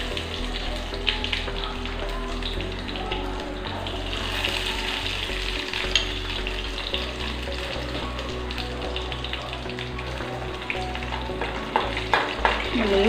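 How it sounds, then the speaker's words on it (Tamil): Garlic, curry leaves and mustard seeds frying in hot oil make a loud, sustained crackling sizzle peppered with pops and spatters, with occasional stirring taps throughout. "பூண்டையும் கருவேப்பிலையும் போட்டுடலாம்."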